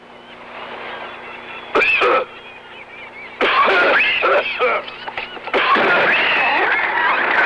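A man coughs hard several times in loud, harsh bursts over a steady background hum, with short pauses between the fits.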